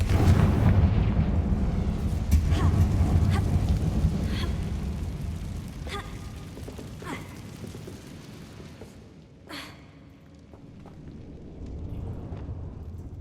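Bombarda and Confringo spells detonating in the Hogwarts Legacy video game, a heavy rumbling series of blasts with sharp bursts near the start and middle, fading into a softer roar that swells again at the end.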